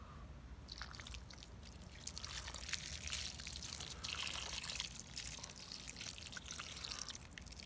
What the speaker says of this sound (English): I'm gonna pour a little water in there with it.